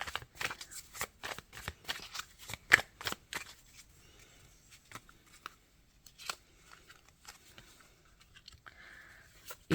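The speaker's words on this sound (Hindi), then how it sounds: "अब मैं दूसरे डेक से कार्ड निकालूंगी।" A deck of tarot cards being shuffled and drawn at a reading, with bursts of crisp riffling and flicking and softer card slides and taps between them, close and fairly quiet.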